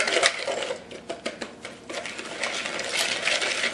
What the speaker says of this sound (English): You're going to whisk this together until it's well combined.